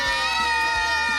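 A family group of children and adults shouting a cheer together at a family sports day, a brief loud sustained massed yell.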